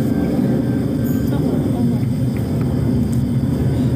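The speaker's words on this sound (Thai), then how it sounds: "ทำไมตรงนี้ได้ยินเสียงเครื่องบินด้วยอ่ะ" Airplane passing overhead outdoors, a continuous low roaring drone that holds steady throughout, with people talking over it.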